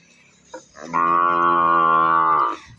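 A single loud, close cow moo, long and steady for about two seconds, preceded by a short grunt.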